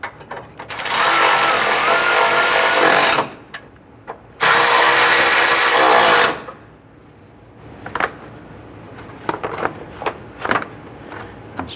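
A power tool snugs down the bracket bolts on a 1994-2004 Ford Mustang radiator in two loud, close, sustained whirring bursts of about three seconds each. Scattered light clanks and taps of handling follow, with no voices.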